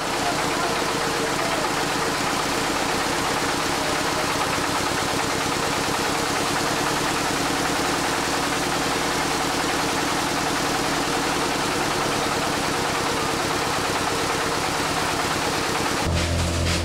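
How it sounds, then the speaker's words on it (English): An engine-driven corn mill in a Tanzanian village runs as a loud, steady, close mechanical drone with a constant throbbing rumble and no pauses, and no voices. "Corn is milled in this machine to make ugali for the villagers."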